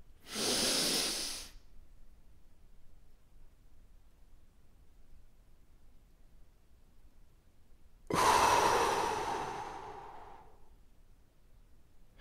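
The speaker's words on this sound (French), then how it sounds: "Donc maintenant, tu vas le faire avec moi, on respire." Two long, deep breaths from a guided breathing exercise, each a loud airy rush lasting one to two seconds, separated by several seconds of near silence. No talking is heard.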